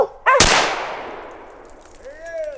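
A single loud, close shotgun blast cracks out during a squirrel hunt with dogs, ringing off into a long decaying tail, with a faint whistle-like tone rising near the end.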